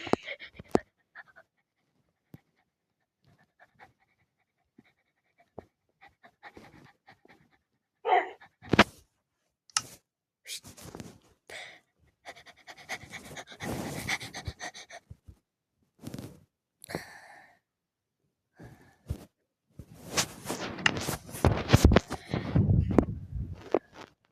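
A dog in the video game Minecraft pants and whimpers in short, scattered bursts separated by silent gaps, growing busier and louder toward the end.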